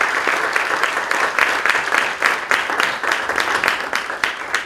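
Audience at a church event breaking into sustained applause, a dense, steady wash of many hands clapping close by for several seconds.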